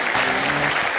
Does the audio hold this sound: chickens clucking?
no